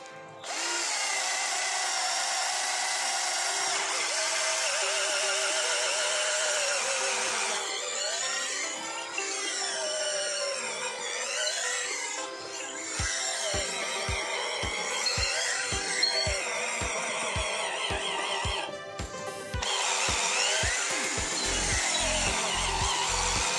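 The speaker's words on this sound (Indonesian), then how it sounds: "Berikutnya saya menggunakan mata bor auger dengan diameter 10 mm." A Bitec R1012 cordless drill with a 10 mm auger bit, 230 mm long, bores into 15 cm thick mahogany. The motor whines steadily and loudly throughout, with the pitch shifting under load and grinding bursts of wood cutting.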